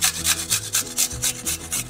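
Garlic being scraped for a fish finger marinade, a steady run of about eight rhythmic rasping strokes, close and fairly loud, with nothing else heard.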